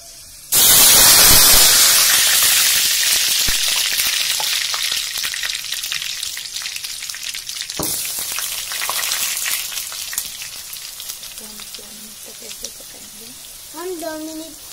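Red chillies hitting hot oil in a pan for an olive pickle let out a loud, sudden sizzle that slowly eases into a steady frying hiss, and a few faint tonal sounds come near the end.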